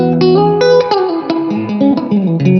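Electric guitar through the clean channel of a Bluguitar AMP1 tube amp with a little reverb, playing a quick melodic run of plucked single notes and double stops, close and bright.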